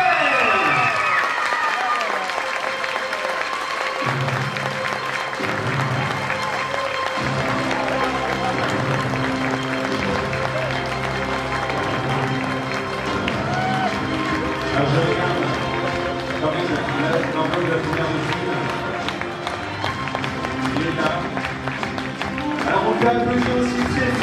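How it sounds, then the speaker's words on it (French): Thunderous applause and cheering from a pageant crowd at the Reine de la Dentelle 2025 lace queen ceremony in Caudry greet Lara Noël, filling the hall loudly and continuously over music, with voices mixed in. "sous un tonnerre d'applaudissements, Lara Noël"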